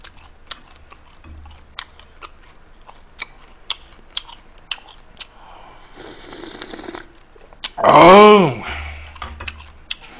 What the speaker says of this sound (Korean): 요거는 새우 통째로 먹는 거예요